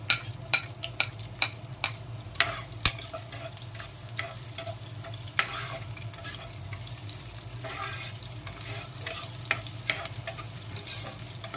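Garlic sautéed in a pan: a steady soft sizzle with repeated sharp scraping clicks of a utensil stirring against the pan at an uneven pace, fairly quiet and close, no voices.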